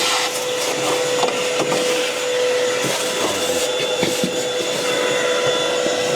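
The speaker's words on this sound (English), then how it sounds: "Want to get this box all vacuumed out." A shop vac runs steadily up close, its loud continuous roar sucking dust and debris out of the box of a Masterbuilt Gravity Series grill, with faint scraping and rattling of the nozzle against metal.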